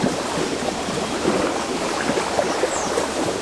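Waves wash continuously against the Lake Balaton shore, a steady rushing, hissing surf close by with small surges, no speech.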